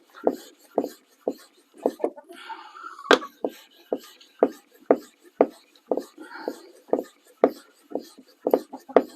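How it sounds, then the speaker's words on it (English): A knife blade drawn in repeated strokes across a finer, flat sharpening stone, each pass a short rasping scrape in a steady back-and-forth rhythm, close and moderately loud, with a brief murmur of voice partway through. "And then you go to a stone that is somewhat finer"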